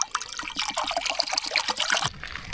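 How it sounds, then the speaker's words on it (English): Water trickles and splashes steadily into a pot at a campsite, a close, continuous pour with bubbling dribbles that stops abruptly near the end. "Put in some water."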